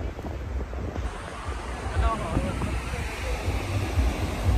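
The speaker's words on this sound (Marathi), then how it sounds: "पाठीमागं समुद्र आहे हा." Sea waves at Vagator Beach in Goa at sunset: a steady low wash of surf rolls continuously under gusty wind buffeting the microphone, with no distinct breaks between waves.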